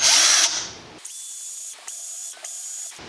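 A cordless power drill spins a 7/64 inch bit for door security screws, one short loud burst, then several steady high whirring runs separated by brief pauses, close and with no talking.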